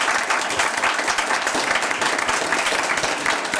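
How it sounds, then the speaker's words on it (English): Audience at a school trustee candidate forum applauding the candidates: dense, steady clapping from many hands that fills the whole stretch at an even, fairly loud level, with no voices on top. "Let's have a round of applause for our candidates,"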